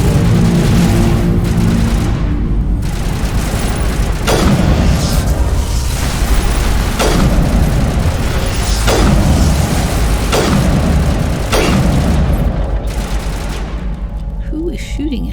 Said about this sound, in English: Who is shooting at us? Oh, it's them shooting.